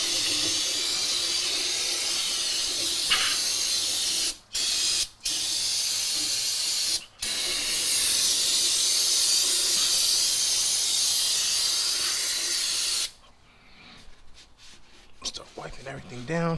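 Brake part cleaner sprayed in a steady, loud hissing stream to rinse the rear differential of a 2015 Ram truck, broken by a few short pauses before the spray stops and quieter handling noises follow.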